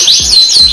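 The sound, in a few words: Rasmi canary bird chirping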